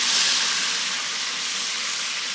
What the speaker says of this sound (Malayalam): നല്ല സൂപ്പർ മുഴുവൻ ഗരം മസാല ആദ്യം പൊട്ടിക്കാൻ പോവുക.